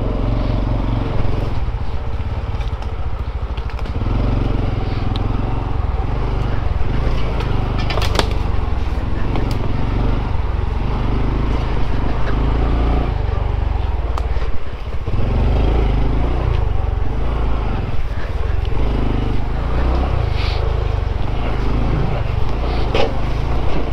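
A Honda Trail 125 motorcycle rides off-road over rough ground near railroad tracks, its engine a loud, continuous drone that rises and dips with the terrain, close to the rider.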